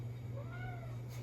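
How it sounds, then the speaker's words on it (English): A very vocal pet cat gives a single drawn-out meow, close and fairly quiet, over a steady low hum in a quiet room. "Sorry, we have a cat. My cat is very, very vocal cat."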